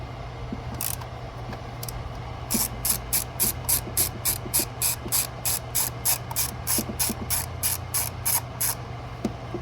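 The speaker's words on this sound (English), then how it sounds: "So you get your 10mm socket, place on that bolt right there on the ignition coil." A 10mm socket ratchet turns an ignition coil bolt on a 2012 Hyundai Genesis 5.0, giving an even run of crisp, close clicks in a steady rhythm with a faint hum underneath.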